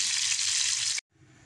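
A whole fish frying in hot oil sizzles with a steady, bright hiss. The hiss cuts off abruptly after about a second, then returns more faintly.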